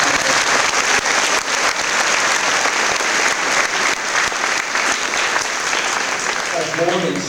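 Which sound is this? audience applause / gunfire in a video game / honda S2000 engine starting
audience applause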